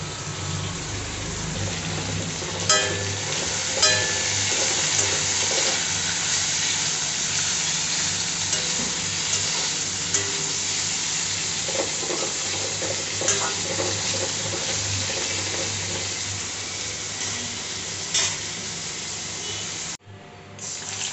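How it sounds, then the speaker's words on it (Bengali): Beans frying in a pan at home, a steady close sizzle holding evenly for about twenty seconds with faint stirring clicks and kitchen clatter, then a brief dip near the end. "এই আমার বিনস ভাজা হচ্ছে।"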